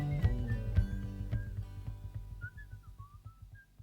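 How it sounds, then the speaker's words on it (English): Melodic whistling closes a song, several bright phrases rising over the fading band with bass and drums still pulsing underneath. "ending it with the whistles was pretty nice"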